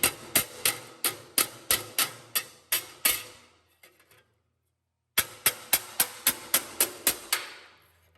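Metal being hammered flat around a corner while prepping parts: a steady run of sharp, ringing hammer strikes, a brief pause, then another even series of blows, each loud and close.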